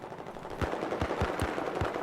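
Video game gunfire while shooting at enemies, a short burst of about five sharp, fairly evenly spaced shots at moderate distance over a low background hum.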